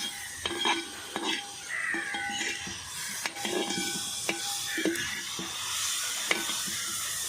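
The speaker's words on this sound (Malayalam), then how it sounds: "ഉള്ളിയെല്ലാം വഴണ്ടുകൊണ്ടിരിക്കുകയാണ്" Onions and crushed ginger sauté in a pan for a beef curry, a steady sizzle under repeated clinks and scrapes of a stirring utensil against the pan.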